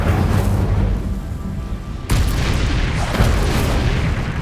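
The Incendio fire spell is cast in Hogwarts Legacy, giving a dense, loud whooshing roar with a sharp burst of impact midway and rumbling fire sound throughout.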